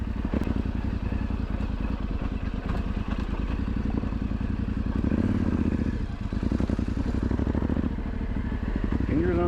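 A Yamaha Tenere 700 adventure motorcycle rides off-road on a Minnesota backcountry route, its engine chugging steadily up close with rapid firing pulses, a brief surge of revving midway, and some clattering.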